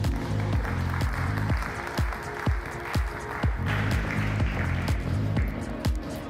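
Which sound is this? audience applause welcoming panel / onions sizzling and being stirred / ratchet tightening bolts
audience applause welcoming panel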